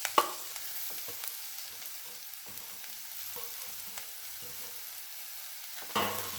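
Mashed potato for poori masala stirred and lightly sautéed in oil, giving a faint, quiet sizzle with occasional soft scrapes and a louder clatter at the start and near the end.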